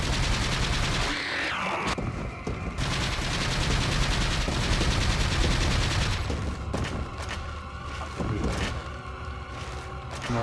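Repeated shotgun blasts in Resident Evil 4, loud booming shots layered with game music and effects over about ten seconds, several distinct reports with rumbling tails.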